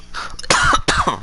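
A person coughs in two harsh, close bursts with a throat-clearing quality, loud and alone without other talk.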